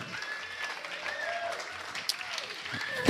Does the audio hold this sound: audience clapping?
yes